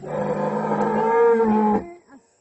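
A cow lets out one long, loud moo up close, holding the low bellow for nearly two seconds before a short grunt.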